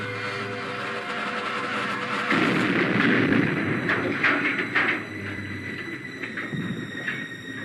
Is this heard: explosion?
yes